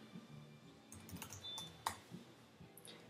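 Keys clatter on a computer keyboard in irregular bursts of quick taps, close and fairly quiet, with one sharper click standing out partway through and no speech over it.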